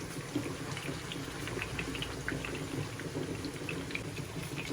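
Egg koftas frying in oil over medium heat, a faint steady bubbling hiss with scattered small pops and crackles, even throughout, no voices.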